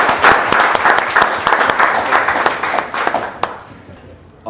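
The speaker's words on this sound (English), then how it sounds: "let's give it a big round of applause" Enthusiastic clapping from a room of app founders and investors after a startup pitch, brisk and dense before thinning out to a few last claps and then quiet.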